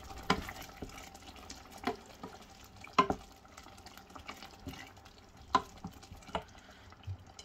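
Ground coriander and other spices are stirred in a pan while cooking lau dal, with soft scraping strokes and occasional sharper taps of the spoon at irregular intervals over a quiet sizzle.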